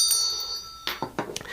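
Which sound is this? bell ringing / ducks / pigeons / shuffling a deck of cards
bell ringing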